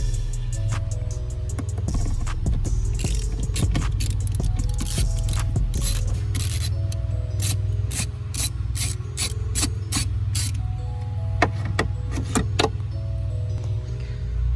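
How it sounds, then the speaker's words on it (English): Ratchet wrench clicking steadily while backing out two 8mm bolts on the blower motor resistor of a 2000s Jeep Liberty, with rapid close clicks, bursts of ratcheting and a low steady hum beneath. "You got two 8mm bolts, you pull those off."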